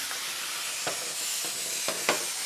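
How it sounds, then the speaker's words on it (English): A Moolan steam mop produces steam in a continuous, loud, broad hiss throughout, with a few short sputtering bursts rising out of the steady rush. "That is generating a lot of steam, that."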